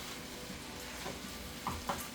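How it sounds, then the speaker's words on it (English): Egg fried rice with spam fries in a pan, a steady, moderately loud sizzle with a couple of brief scraping stirs toward the end. "That's what it's doing, is frying up now."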